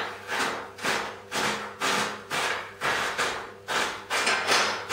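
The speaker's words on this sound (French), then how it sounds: "on va découper finement tous nos Oreos avec un couteau très tranchant" Sharp knife chopping Oreo cookies finely on a board, a steady series of about ten close, even chops in a regular rhythm with no talking.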